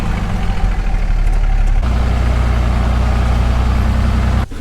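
A 1949 truck's engine runs while driving, a loud, steady, close low rumble with a heavier drone settling in partway through, then briefly cutting out near the end; no talking.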